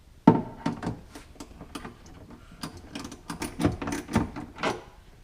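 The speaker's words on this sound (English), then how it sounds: "we're going to go ahead and use a 1/2-inch socket to snug down this bolt" Clicks and clunks of a 1/2-inch socket wrench tightening a bolt on a dual battery kit in a Polaris RZR 1000, a series of close, irregular metallic knocks and ratchet taps with no talking.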